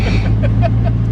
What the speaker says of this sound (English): The turbo's really loud.